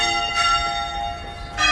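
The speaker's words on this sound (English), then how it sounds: "The bells are ringing." Church bells peal in an Italian town, two loud strikes about a second apart with rich metallic overtones lingering in between, steady and close with no voices.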